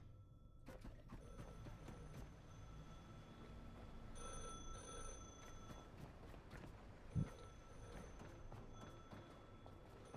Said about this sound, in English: Answer this phone, then we'll figure it out.